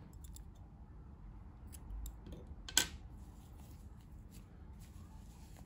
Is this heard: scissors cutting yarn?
yes